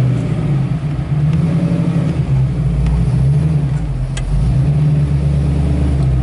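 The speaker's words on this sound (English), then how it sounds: "1965 Mustang. Convertible, resto mod, basically brand new, top to bottom" A restomodded 1965 Ford Mustang convertible, rebuilt like new, drones under load with a steady, loud low engine note that holds level and swells slightly, heard from inside the car with no talking.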